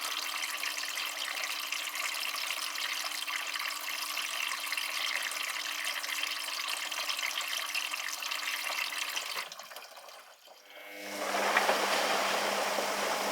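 A Dyson Contrarotator CR01 washing machine fills with cold water on an 85-degree cottons wash, a steady close hiss of flowing water that cuts out briefly and then returns brighter and louder.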